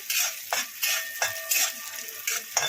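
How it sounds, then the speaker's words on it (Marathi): Green chilies frying in hot oil in a pan, a steady close sizzle with bursts of stirring and metal utensil scrapes recurring every half second or so. "मिरची हलकीशी लाल होऊ द्यायची, गॅस कमी करायचा, हलकीशी फ्राय करायची आहे मिरची पण"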